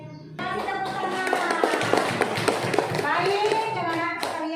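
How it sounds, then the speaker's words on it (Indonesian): Children in a classroom clap together, the steady patter of small hands running under loud, excited young voices and chatter that carry through most of the clip. "Kasih tepuk tangan"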